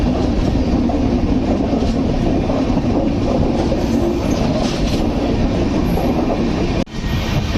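The Gitanjali Express rolls steadily along the rails in Jharkhand with a continuous loud rumble and rattle heard from on board, ending in a brief dip and a sharp clunk near the end.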